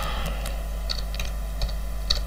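Scattered clicks of a computer keyboard being typed on, irregular keystrokes over a low steady electrical hum, with no talking.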